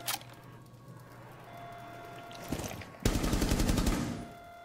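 Pistol fire in the video game Rainbow Six Siege: a brief shot near the start, then a rapid run of loud close shots near the end over steady game ambience.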